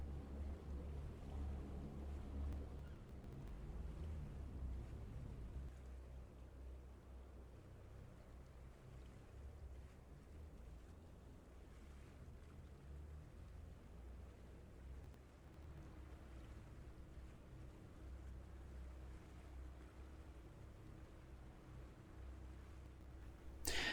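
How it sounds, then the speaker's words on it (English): A boat in Farming Simulator 25 motors toward fish net pens, giving a low, faint, steady engine rumble with soft water and wind wash throughout and no voices. "you drive the boat to the net pens"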